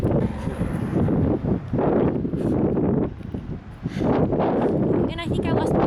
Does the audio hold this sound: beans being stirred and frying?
no